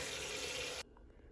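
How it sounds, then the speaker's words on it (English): A Ninja Foodi grill part rinsed under a running kitchen tap, a close, full gush of water that cuts off abruptly about a second in, leaving a quiet room. "I'm just going to go ahead and finish rinsing this off"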